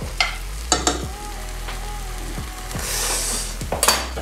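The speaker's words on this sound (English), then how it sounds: "Just stir this up." A shakshuka with sausages being stirred in a frying pan, with a background sizzle, scraping strokes and a few sharp knocks of the utensil against the pan, close.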